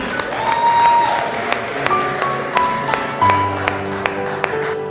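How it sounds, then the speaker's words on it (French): Audience applause with scattered sharp claps rising over a steady backdrop of sustained musical tones, fairly loud throughout, at an elimination show of a televised talent competition. "Cher public, est-ce qu'on peut les applaudir?"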